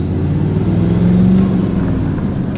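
Turbocharged Chevrolet Silverado pickup with a 2.5 inch upward-angled intake accelerating on a road, a steady loud engine drone with a rising turbo whine.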